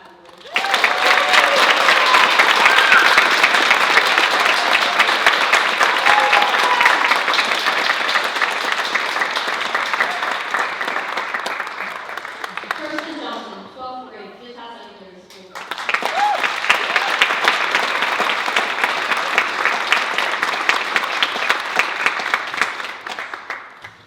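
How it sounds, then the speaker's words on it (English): An audience applauds at a youth awards ceremony, sustained loud clapping that fades and briefly gives way to a voice before a second burst of applause resumes. "Please join me in applauding for Jaden Jamerson"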